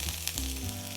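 Food sizzles in a hot pan while being stirred toward golden brown, a close, steady frying crackle through the whole short moment with no voices.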